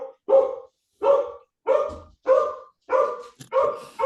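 A dog barks six times at a steady, evenly spaced rhythm, loud and fairly close, each bark a short sharp bow-wow with silence in between.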